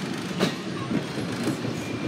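Wilmington Western Railroad open-air passenger train rolling along the tracks past backyards by Red Clay Creek, a steady close rumble of wheels with a few soft rhythmic clicks of rail joints.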